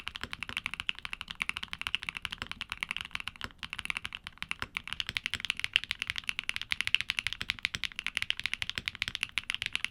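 Rapid typing on Keygeek Y3 and Y1X mechanical keyboard switches, a dense, steady stream of close, crisp clacks with no voices.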